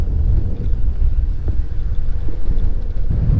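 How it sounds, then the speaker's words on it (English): Strong wind buffets the microphone outdoors while riding an e-bike, a constant, loud low rumble with gusty fluctuations and no talking. "It is very windy."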